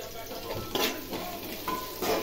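A spoon stirs raw toor dal with a pinch of turmeric in a frying pan, giving a steady scraping rustle with light sizzling and a few sharper scrapes, close and continuous, with no talking.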